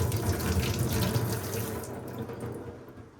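A faulty kitchen tap runs water nearby in a steady, close, splashing gush that eases off slightly toward the end, with no talking.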